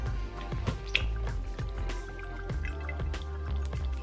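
Excess water drips and trickles steadily from coconut-fibre bedding with small wet squishing sounds, close and fairly quiet, no voices.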